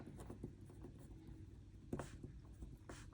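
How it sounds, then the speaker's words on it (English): Faint, close pen scratching on paper while writing out a chemistry definition by hand, with soft irregular strokes and a couple of sharper taps, with no talking. "I would write the definition out here"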